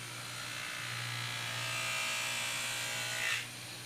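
Hoof knife pressed lightly against a spinning buffing wheel loaded with 600 grit greaseless compound, giving a steady close whirring hum with a higher grinding hiss that swells briefly near the end, no talking.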